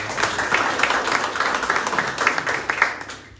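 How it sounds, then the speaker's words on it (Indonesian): Steady applause from an audience at a welcoming ceremony in a Buddhist vihara, moderately loud and continuous for several seconds, with light voices underneath. "Tepuk tangan dulu"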